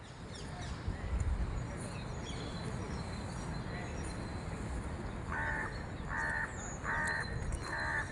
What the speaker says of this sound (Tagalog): Yun uwak.